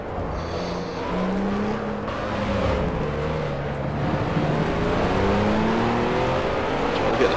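Historic BMW GT4 race car accelerating on track in the Project Cars video game, engine droning steadily and loud throughout with rising and falling pitch as it pulls through the gears.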